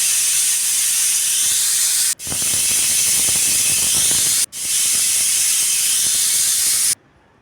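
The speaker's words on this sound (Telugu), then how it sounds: "ఐదు విజిల్స్ వచ్చినాయండి." A pressure cooker of dal steadily whistles with a loud, sustained steam hiss, broken by two brief gaps before stopping abruptly.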